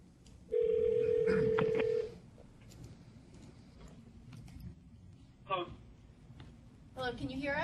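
A telephone dials a call-in number: a steady dial tone, then a short run of touch-tone beeps. Faint voices and room noise sit underneath.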